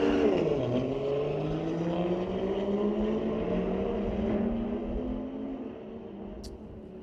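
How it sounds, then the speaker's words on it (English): A 2020 BMW M340 xDrive drag racing a 2018 BMW 440i at a street-legal drag night at Mission Raceway Park, engines revving and pulling through gears in a steady roar that slowly fades into the distance. "A 2020 M340 X-Drive. Racing a 2018 BMW"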